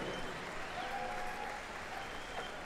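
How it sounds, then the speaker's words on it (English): A crowd at a pow wow gathering applauds a heart transplant recipient, a soft, distant wash of steady clapping with faint crowd murmur and a brief whistle. "How about a round of applause, a recipient right here"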